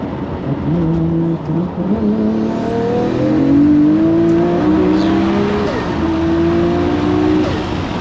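A Nissan GT-R engine revs hard under acceleration, loud and close, its pitch climbing through the gears with brief drops at each shift.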